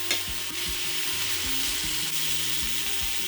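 A batch of beef liver sears in a hot pan alongside onions and peppers, a continuous loud sizzle with scattered crackles and light clinks, close up and without voices.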